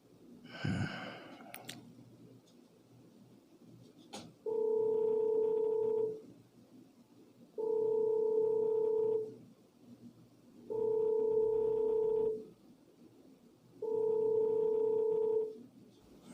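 A telephone line rings while placing a call: four evenly spaced steady tones, each about a second and a half long, separated by pauses, after a breath and faint handling noise.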